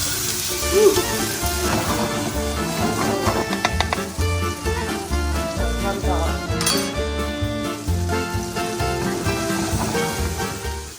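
Steak sizzles in a hot pan with butter being basted over it, a continuous frying hiss with occasional utensil clinks, heard beneath background music.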